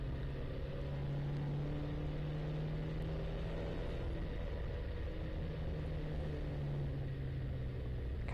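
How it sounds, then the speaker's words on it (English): A race car engine drones steadily at an endurance event at Thompson Speedway, a low even hum from inside the car as the driver eases off the throttle, with no talk. "You can hear him lifting off the throttle."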